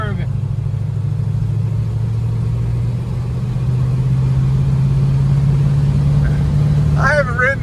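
A 1967 Chevelle SS 396 with a four-speed manual cruises along a twisty road, its big V8 droning as a loud, steady low rumble that holds throughout, heard from inside the car, with brief voices near the end.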